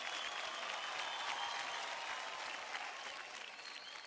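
A studio audience claps and cheers in a steady, dense wash of applause at a Marathi televised dance competition. It stays sustained and even throughout, then eases slightly toward the end.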